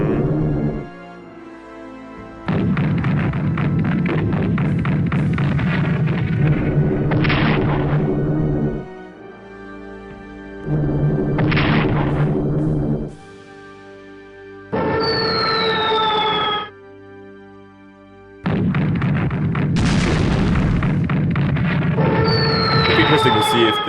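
Repeated booming bombardment blasts from a bomber strike in the World War II strategy game Strategic Command, coming in several loud rumbling bursts separated by brief pauses, with whistling streaks over some of them.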